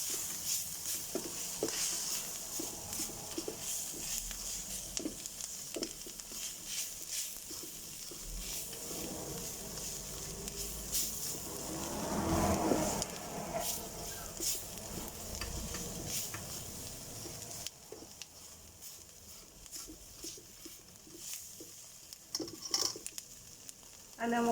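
Curry powder sizzles in a pan while being stirred for a chicken curry casserole, a steady close hiss with scraping stir strokes and soft patter throughout, a little quieter toward the end, with no talk.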